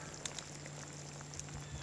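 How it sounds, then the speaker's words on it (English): A pot of beans boils over a fire, giving a faint, quiet bubbling and soft popping with low crackles in the background. "It is boiling."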